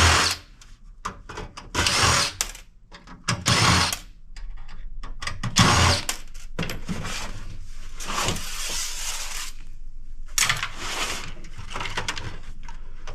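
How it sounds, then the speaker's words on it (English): A power screwdriver backs screws out of a computer power supply, whirring in short loud bursts with pauses, then running longer, close up with a rattling metal case and no voices. "And we'll unscrew the power supply."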